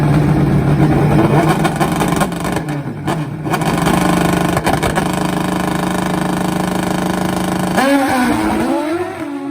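Loud, close engine roar from 500-horsepower nitrous drag motorcycles at the strip, a sustained high-revving blare with brief dips that ends in a rising, wavering whine as the bikes pull away.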